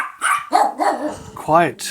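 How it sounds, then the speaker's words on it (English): Dogs bark in short loud bursts close by, mixed with overlapping talk from people indoors. "Sorry about the dogs."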